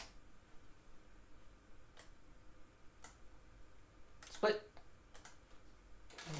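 A few sparse, faint clicks of keys being pressed on a computer keyboard, spaced irregularly about a second apart, with one slightly louder cluster near the end, set against a quiet room.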